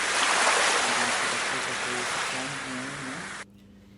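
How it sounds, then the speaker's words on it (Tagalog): Ocean waves wash onto a beach, a steady loud rushing surf that fades slightly before cutting off abruptly near the end. "it's really relaxing, and the sounds of waves, no, sa dagat"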